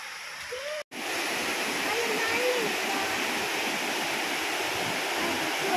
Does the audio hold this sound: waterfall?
yes